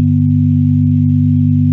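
A steady blend of three pure sine tones sustained evenly throughout, forming a smooth, slightly buzzy chord at constant loudness.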